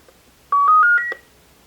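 A Retevis MB3 CB radio powers on with a quick run of five rising electronic beeps, close and clear over near silence.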